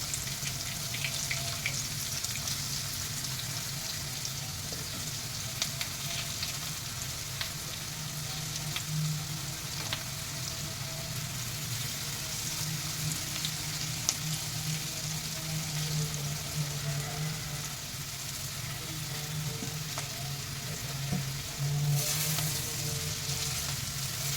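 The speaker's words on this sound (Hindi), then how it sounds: "थोड़ा सा हम 2 मिनट हाई फ्लेम रखेंगे, 1 मिनट, और फिर इसको स्लो करके हम धीमी आंच करके भिंडी को अच्छे से फ्राई होने देंगे" Okra frying in oil in a kadhai over a high flame crackles and sizzles steadily and fairly close throughout, a continuous bed of fine popping with no talk.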